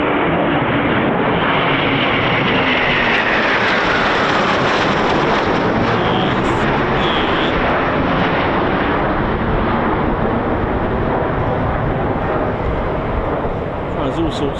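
A Eurofighter Typhoon FGR4 roars past at an RAF QRA station, a loud sustained jet rumble filling the scene with wind buffeting the microphone and a voice talking over it.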